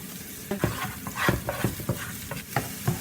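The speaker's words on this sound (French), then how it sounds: "nous mettons l'huile pour frire les oignons" Onions frying in oil in a pan, a close crackling sizzle punctuated by sharp scraping stirs at irregular intervals, no speech.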